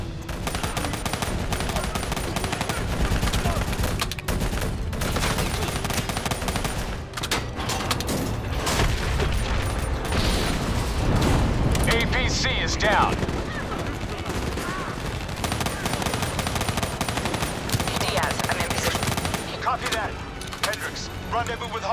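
Sustained automatic gunfire aimed at a VTOL aircraft in Black Ops, a dense, continuous rattle of shots with clattering mechanical bursts, loud throughout, while voices talk over the battle.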